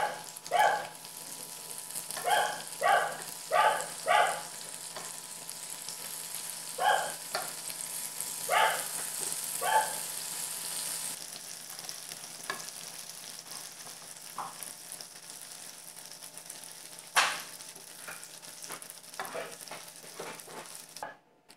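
Tofu scallops sizzling in a pan, a steady frying hiss with intermittent louder bursts and crackles near the start, continuing softer throughout with no talk.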